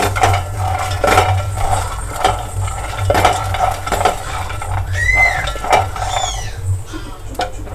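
Peeled, soaked almonds are fried over a low flame in a pan for a puffed-rice sweet, stirred with a metal spoon that clinks and scrapes repeatedly over a soft background sizzle.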